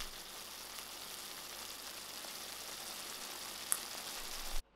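Vegetarian brinjal fish curry sizzling and frying steadily in a pan on a stove, a continuous close hiss that cuts off abruptly at the end.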